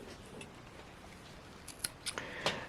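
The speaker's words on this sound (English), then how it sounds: "and snip that off" Scissors snip off a length of weft yarn at a small Mirrix Chloe tapestry loom, giving a few quiet, crisp cuts near the end of an otherwise hushed moment.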